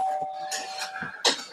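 A doorbell chime opens a live card box-break stream. A steady tone is followed by a quick bright ding amid soft nearby noises.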